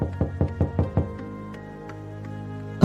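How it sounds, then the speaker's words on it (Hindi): A door being knocked on, six quick, firm raps in a steady rhythm, followed by a few fainter, slower knocks and a final thump, close and alone without voices. "उसके कुछ क्षण बाद दरवाजे पर खटखटाहट की आवाज हुई।"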